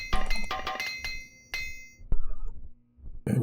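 A hammer strikes repeatedly during a repair in Morrowind (OpenMW), giving a handful of sharp metallic clangs with ringing tails, closely spaced then sparser, with short gaps of near-silence.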